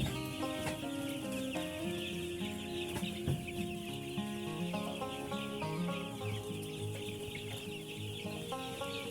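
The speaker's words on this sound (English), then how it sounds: "sometimes chickens are just interesting, aren't they?" A brood of chickens being reared in a large flock cluck busily and continuously, many birds close by with overlapping calls and chirps layered over a steady background din.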